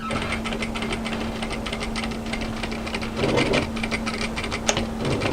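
Domestic sewing machine running a line of topstitching along an overlocked seam on a hooded A-line jacket, a fast steady mechanical whirr of needle strokes with a constant motor hum and a brief louder burst partway through.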